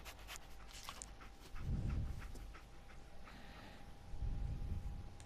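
Dogmeat, the dog companion in Fallout 4, pants in quick rhythmic breaths at close range, with two heavier bursts of breathing and no talking.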